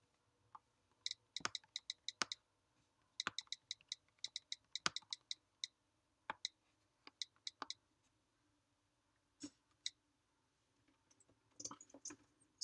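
Typing on a computer keyboard to enter a chat message: quick bursts of light key clicks separated by short pauses, close and quiet, with no speech.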